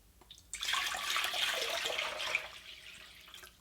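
About 1.5 liters of water, six cups, pours into a pot for heating on an induction cooktop, a steady splashing gush lasting around two seconds before tapering off.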